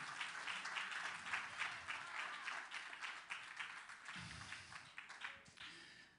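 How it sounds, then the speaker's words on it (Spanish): Church congregation applauding at an evangelical Pentecostal service, dense sustained clapping from a crowd throughout, fairly distant, with a voice briefly audible near the end. "Denle un aplauso al Señor con fuerza."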